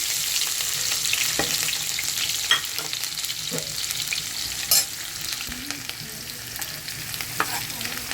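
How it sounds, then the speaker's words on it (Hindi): Chopped onion and green chillies fry in hot oil in a pan for rajma masala, a steady soft sizzle with occasional clicks and stirring scrapes, no voices. "हमने 1 बड़ी प्याज को ऐसे ऑमलेट कट काटा है और 3-4 हरी मिर्चें ये डाल देंगे"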